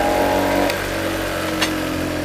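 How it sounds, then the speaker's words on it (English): A bench grinder fitted with a vertical wire wheel in a home workshop, its motor droning steadily with a tonal hum that drops slightly partway through, close and fairly loud with no talking. "This is the grinder and wire wheel."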